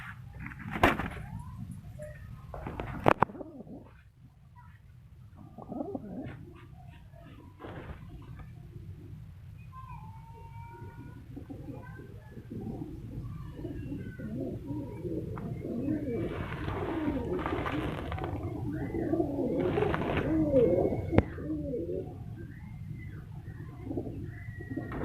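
Pigeons coo steadily at a pigeon farm in Multan, with soft repeated coos and occasional bird calls layered over one another, plus a brief clank near the start and faint voices in the background.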